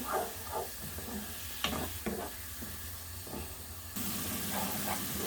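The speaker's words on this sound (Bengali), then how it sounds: "এখন আমি মশলাটারে খুব ভালো করে আবার কষাইয়া নেব।" Steady sizzling of spice paste frying in a pan, with a few sharp scrapes of a spoon stirring at intervals; close and moderately loud, no talking.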